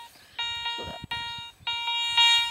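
Three sharp electronic beeps from a metal detector passing over a coin sound in quick succession, high and tonal, with faint rustling and a brief thump between them.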